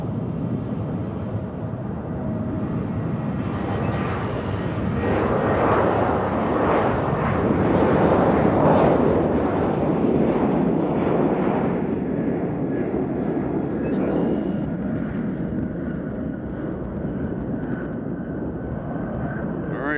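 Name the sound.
Avelo Airlines airplane departing to New Haven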